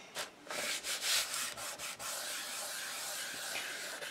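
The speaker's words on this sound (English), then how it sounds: "Again, just burnish that down." Paper being burnished down by hand for a die-cut memory book, a faint, close rubbing and scraping with several quick strokes early on, then a steadier soft friction hiss.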